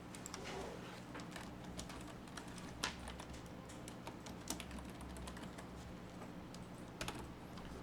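Soft, rapid keystrokes on a computer keyboard while text is entered into a motion-graphics title, a quiet, continuous patter of clicks with a few sharper taps over a low room hum.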